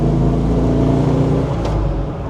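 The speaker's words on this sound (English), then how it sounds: "the roar of that engine is just beautiful" Fastback car engine roaring close by, a loud, deep, continuous rumble that holds steady and then eases off slightly toward the end.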